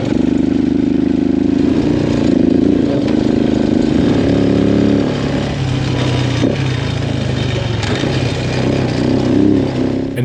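A small mini jeep engine drones steadily while driving along rough roads, a loud close buzzing hum with slight shifts in pitch as it labors.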